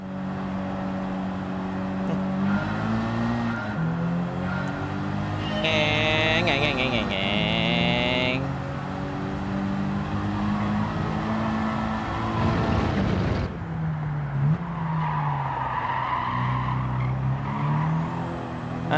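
Race car in the Gran Turismo 7 video game braking and skidding, engine tone rising and falling with a screech of tires, over game music and a voice talking.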